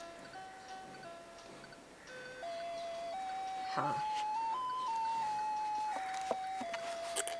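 A street vendor's chime plays a slow, stepped melody of sustained electronic tones outdoors, moderately loud and continuous, with a brief spoken word and faint background noise around it.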